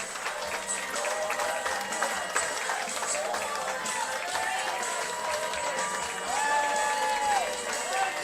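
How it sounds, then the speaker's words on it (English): Crowd at a Hoptown Hoppers baseball game cheers and applauds after a two-run home run, a sustained roar of voices and clapping at a moderate distance, with announcer commentary running over it. "And that's got the crowd back in it."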